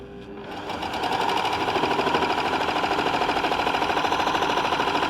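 A Baby Lock Enlighten overlocker stitches through cotton fabric, a fast, steady mechanical chatter that swells after the first second and then runs loud and even, with no talking.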